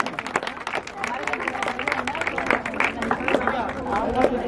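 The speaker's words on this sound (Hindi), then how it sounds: "एक बार जोरदार तालियों से स्वागत किया जाए।" Applause and cheering from a crowd welcoming guests at a Holi festival at a temple, loud claps mixed with crowd chatter throughout.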